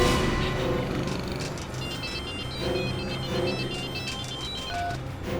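A telephone rings in a series of repeated trilling bursts over a busy background of music and ambient noise.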